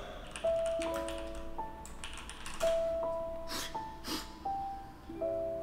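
Keys on a computer keyboard are tapped in irregular bursts of close clicks, with sustained electronic tones sounding alongside them.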